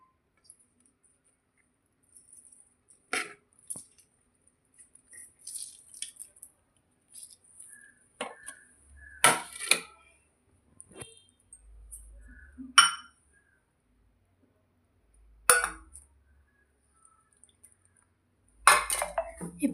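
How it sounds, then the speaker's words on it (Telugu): Marinade ingredients are mixed into chicken in a bowl in a home kitchen: scattered clinks and scrapes of a spoon against the bowl, close and sporadic, with quiet pauses between. "ఇప్పుడు మనం పక్కన పెట్టుకున్న ఇంగ్రీడియంట్స్ అన్నీ వేసుకోవాలి. వేసుకొని బాగా కలుపుకోవాలి."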